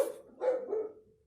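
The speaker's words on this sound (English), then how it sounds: "If y'all can hear my dog barking," A pet dog barks a couple of times indoors, fairly quiet and slightly distant, the short barks trailing off into silence with no one talking.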